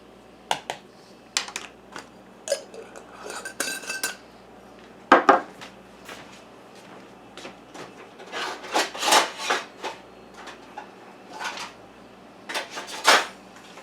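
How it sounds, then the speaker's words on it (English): Flour, salt and caraway seed stirred together in a bowl, with a utensil scraping and clinking against the sides in bursts of irregular, close, fairly loud knocks and rubs. "I'm going to mix this all to combine it."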